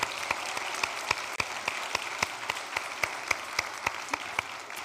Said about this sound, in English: Let's have a round of applause Yes.